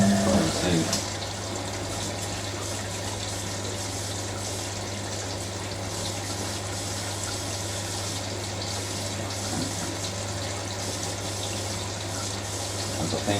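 A Hoover A3060 Electronic 1100 washing machine fills with water during its auto pre-wash, giving a steady, continuous rush of inflow with a low hum beneath it, heard close and unbroken throughout.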